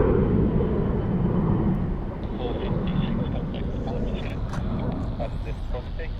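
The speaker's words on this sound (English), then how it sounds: "There goes your Jetstar." A Jetstar airliner passing at Sydney Airport, a loud broad roar of jet engines that fills the clip and eases slightly toward the end, with a voice talking over it.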